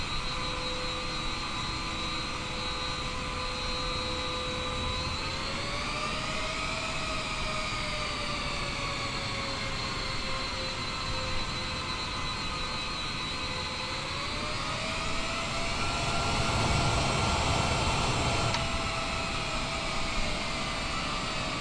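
A second jet engine spools up on a large aircraft, a steady whine with rising tonal harmonics that climb in two stages over a continuous roar, loud and close throughout with no talk.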